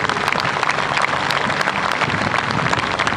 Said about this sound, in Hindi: एक बार जोरदार तालियों से अपना आभार व्यक्त कीजिए